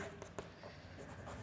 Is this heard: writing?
yes